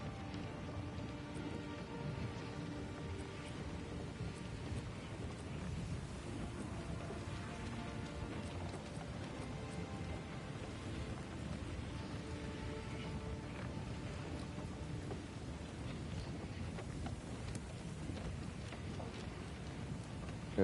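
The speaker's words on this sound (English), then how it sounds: "Rain." Steady rain in a video game, Path of Exile 2, pours throughout, a dense even hiss with low rumbling beneath, continuous and fairly loud with no voices.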